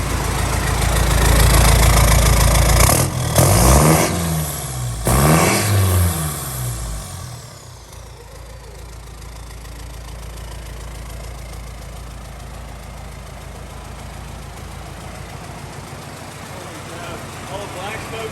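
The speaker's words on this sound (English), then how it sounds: "Check out the idle. We're gonna give you some idle noise." A 4BT Cummins diesel in a truck, just started for the first time, rumbles loudly with a few sharp revs, then drops into a steady, clattering idle close by.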